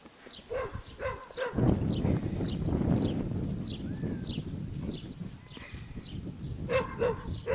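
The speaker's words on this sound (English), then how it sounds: "Neighbor's got a new dog next door. It just constantly sits there and barks at us." A neighbour's dog barks repeatedly from next door, sharp, moderately distant barks in bursts at the start and end over a steady background rumble.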